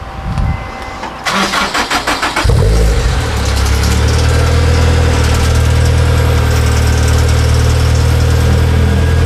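A car with an HKS exhaust cranks and fires up loudly, then settles into a deep, rumbling idle through the exhaust, close by with no talking.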